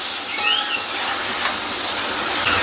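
Carrots and tomatoes fry together with other vegetables in a pan, giving a steady, close sizzle with soft crackles and no talk over it.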